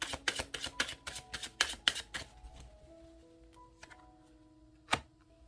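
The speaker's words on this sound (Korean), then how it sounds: "키퍼덱으로 3장의 카드를 뽑아볼게요." Tarot cards from a Keeper deck drawn and shuffled, giving a rapid run of crisp card snaps and flicks up close, then a few sparse taps and a single sharp click as they settle.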